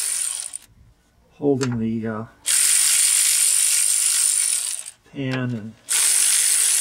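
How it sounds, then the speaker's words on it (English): A ratchet wrench works on a van's transmission pan bolts, giving long steady zipping clicks that stop and start, close up, with brief speech in the gaps. "It's always nice to have one of these wrenches when you go to put it back together."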